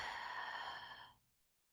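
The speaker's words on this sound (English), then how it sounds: "Breathing." A single long breath or sigh, soft and close, drawn out for about a second before fading into quiet.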